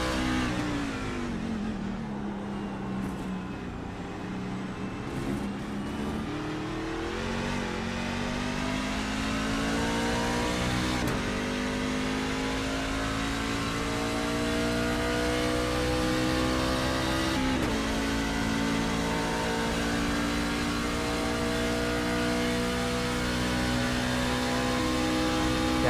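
A race truck's engine in the Wild West Racing League Raiders Wasteland Truck Series game drones steadily and loudly throughout, its pitch climbing gradually as it revs, with brief dips at shifts or braking and no talking.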